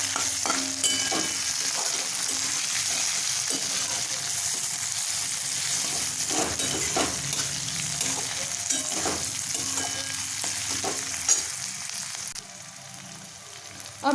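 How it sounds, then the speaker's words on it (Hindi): Chopped onion sizzles steadily in an oily pan for veg Manchurian, a continuous close crackle with occasional stirring scrapes and clicks throughout, no talking. "प्याज एकदम हल्का फ्राई हो चुका है।"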